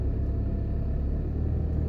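A car driving the wrong way down a one-way street in Jamaica gives a low steady engine rumble, fairly close and continuous, with no voices over it.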